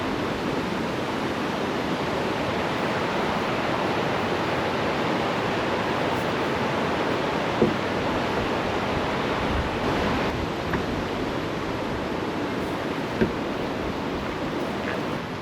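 Waterfall pouring over a travertine barrier at Roški Slap in Krka National Park, a dense, steady roar of rushing water that holds constant throughout, with faint brief knocks and no voices.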